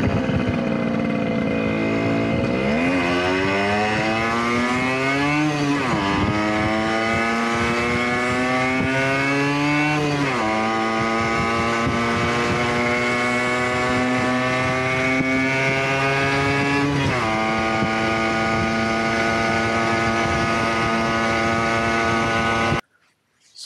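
A Yamaha RD50 'Kenny Roberts' small two-stroke motorcycle on a test ride, its buzzing engine climbing through several gear changes in rising whines, loud and close, then cutting off abruptly at the end.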